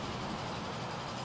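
A train runs on rails in Transport Fever, heard as a steady, broad rolling rumble and hiss at an even level. There are no distinct clacks, and it continues unbroken the whole time.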